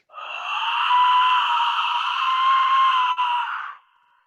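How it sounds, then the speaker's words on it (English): An indigenous whistle lets out a loud, piercing, scream-like wail that holds steady for nearly four seconds, broken by a tiny catch near the end before it cuts off. "this one sounds like somebody screaming in a way"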